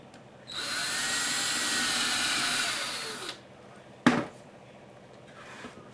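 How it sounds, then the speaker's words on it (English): A power drill whines at high pitch for about three seconds as it bores a pilot hole into a wooden base for a guitar and bass stand, then winds down, followed by a sharp knock and a short faint whir. "Then I'm going to make some pilot holes into the base."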